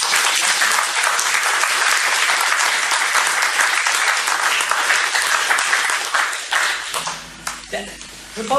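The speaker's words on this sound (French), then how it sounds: "Je crois qu'on peut encore les applaudir." An audience applauds a jazz group, the Jazz Balsamique, with loud sustained clapping that thins out over the last seconds, leaving a few scattered claps and faint ringing tones near the end.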